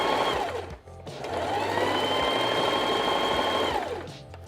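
A sewing machine in a shop runs in a steady whirring burst, briefly pausing near the start and then stitching continuously for several seconds before stopping, close and loud.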